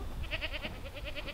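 Kiko goats on a farm give a quick run of short, nasal bleats, close and fairly faint, lasting little more than a second.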